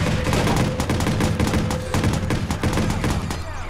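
Rapid gunfire crackles through an armored truck match in an online shooter game, dense overlapping shots and bursts filling the whole stretch at close, loud range.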